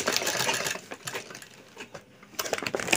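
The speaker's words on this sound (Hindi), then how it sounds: "इस तरह से ठीक से आप सिलाई चलाइए," A sewing machine stitches the seam of a fertilizer sack being made into a bag, producing rapid mechanical chatter in close bursts with brief pauses between runs.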